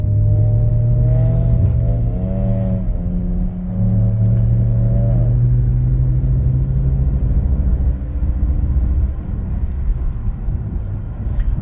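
A BMW drifting on snow, its engine droning and revving at low RPM, loud and close, with the pitch rising and falling before settling into a steady rumble.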